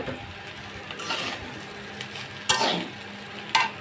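Half-boiled vegetable rice frying in a kadai, a spatula scraping and stirring over a gentle sizzle, with two louder scrapes standing out near the end and no talking.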